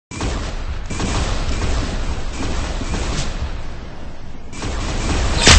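Gunfire rattles through a Roblox Arsenal match as dense, loud, continuous bursts of shots and booms, with a short dip partway through and a sharp blast at the very end.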